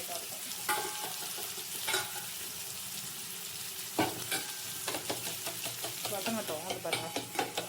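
Beaten egg seasoned with salt, turmeric, pepper and chili powder sizzling in a pan, with soft steady frying and intermittent scrapes and stirs of a spatula.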